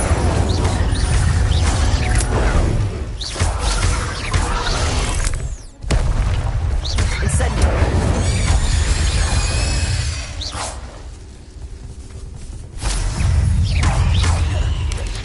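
Spell casts from Hogwarts Legacy fire off in quick succession, loud and dense, with booming blasts, crackling bursts and whooshing streaks layered over constant game effects.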